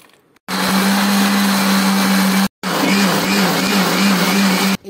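A kitchen mixer grinder blends beetroot and carrot pieces with lemon juice, honey and a little water, running in two loud, steady whirring bursts with a brief stop between them.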